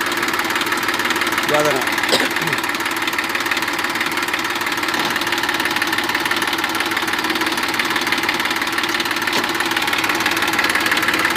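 Massey Ferguson 241 DI tractor, 41 hp with a 5-speed gearbox and a rotavator attached, running with a steady loud diesel chug and knock throughout, a few voices talking briefly over it.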